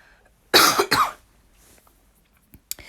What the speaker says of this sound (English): and I'm going to cough again.